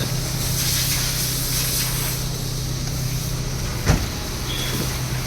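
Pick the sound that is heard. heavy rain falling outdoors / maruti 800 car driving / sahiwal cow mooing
maruti 800 car driving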